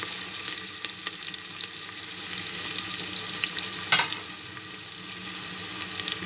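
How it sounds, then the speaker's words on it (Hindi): Green chillies and onions fry in a pan for bottle gourd sabzi, giving a steady close sizzle while being stirred, with a brief clatter midway and no talking. "अब डाल देंगे हरी मिर्च, अच्छे से चला देंगे जब प्याज ब्राउन होगी।"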